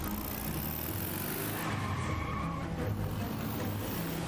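A car pulls away quickly after being stolen, its engine and tire noise rolling continuously at moderate volume, somewhat muffled.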